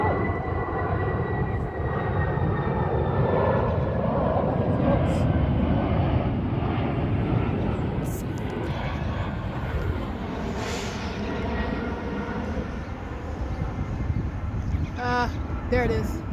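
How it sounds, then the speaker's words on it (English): A fixed-wing airplane passes close overhead, a loud steady engine roar that fills the whole stretch and slowly shifts as it goes by. "That plane was really close."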